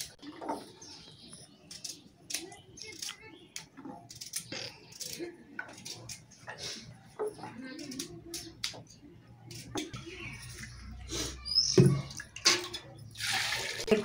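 Peeled potatoes being rinsed by hand in clean water in a home kitchen, with irregular splashing and sloshing close by, someone speaking over it and birds chirping faintly in the background.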